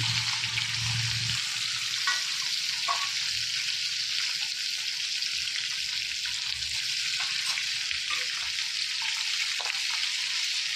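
Fish sizzling steadily in hot oil in a pan while curried hilsa is cooked, a dense continuous crackle with faint clinks of a utensil, no talking.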